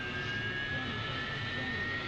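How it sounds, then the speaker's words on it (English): AV-8B Harrier jet engine running on its own after start-up, a constant loud turbine whine over a broad roar, close and unbroken. "Once there's enough power, the engine is self-sustaining."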